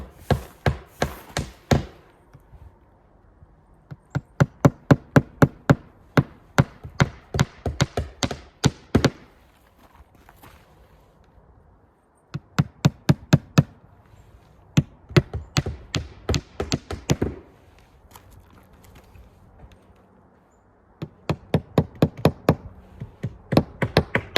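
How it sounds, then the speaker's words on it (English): A hammer drives nails into a vinyl siding starter strip, in quick bursts of sharp knocks separated by short pauses, close and loud, with no speech. "And now we're nailing in every other hole."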